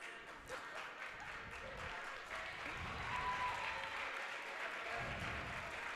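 At a high school wrestling meet at Caesar Rodney, home fans applaud steadily as the wrestlers come out to the mat. The clapping builds slightly toward the end, with faint voices mixed in.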